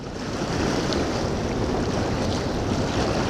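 A swollen river at high water rushes steadily past, a dense, continuous roar of flowing water with some wind buffeting the microphone, no voices.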